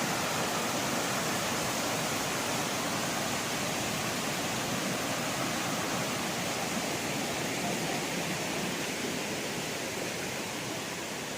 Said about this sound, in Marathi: आणि हा बघा धबधबा,